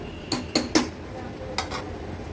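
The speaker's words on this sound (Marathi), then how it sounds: "व्यवस्थित हे वरण मिक्स करून घेऊया" A spoon stirs toor dal varan with jaggery, grated coconut and salt in a pot, making a few sharp metallic clinks against the rim, quiet and spaced apart in an otherwise still kitchen.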